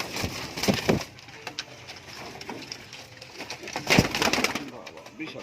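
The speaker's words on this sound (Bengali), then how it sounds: "পায়রা ধরে দেখাই" Fancy pigeons in a loft give repeated soft, throaty coos with brief rustling and flutters, louder bursts near the start and again around the fourth second.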